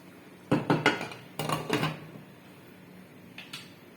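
Metal cookware clatters as a lid goes onto a cooking pot during stovetop cooking of paneer butter pepper masala: a burst of several close clanks, a second cluster about a second later, then two fainter taps.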